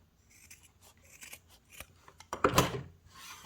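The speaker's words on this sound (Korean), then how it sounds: "원단 가위를 이용해서" Fabric scissors snip through cloth to trim a one-centimetre seam allowance while sewing a patchwork frame quilt pouch, giving a series of crisp close cutting strokes at an uneven rhythm, the loudest cluster coming near the end.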